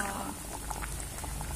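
A pot of fish braising with starfruit simmers with a soft, continuous bubbling and faint popping, quiet and close, over a low background hiss.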